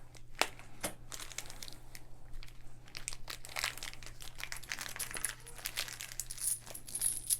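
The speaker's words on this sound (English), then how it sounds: "metal coins. Look at this." Metal coins from the Xia: Legends of a Drift System board game clink and jingle up close as they are handled and dropped. Bright, repeated metallic taps come with some rustling of packaging.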